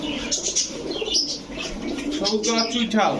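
Pigeons, racer and fancy breeds kept in pairs, coo and chirp close by with soft wing flutters, under a voice talking over them.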